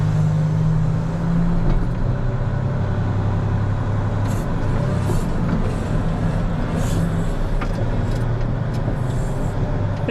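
A Volvo 220G wheel loader's diesel engine runs steadily at a low, heavy drone, close and continuous, with faint clanks and hisses riding over it and no voices.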